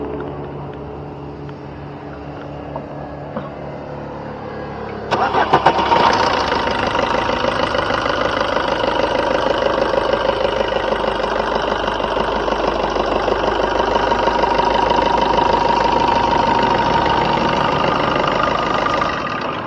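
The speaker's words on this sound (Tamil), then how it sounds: "இப்போ வாங்க வண்டியோட இன்ஜின் சவுண்டு எப்படி இருக்குது அப்படிங்கிறத கேட்போம்" A Maruti Suzuki Baleno car engine idles steadily, a low continuous rumble that jumps louder partway through after a brief clatter, then holds an even hum.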